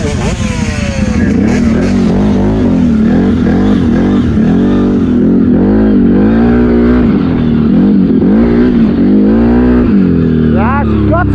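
A 2019 CFMOTO CFORCE 800 Mud Edition concept ATV engine drones loud and close in low gear, rising and falling in repeated revving swells on a dusty test ride, with a voice speaking over it.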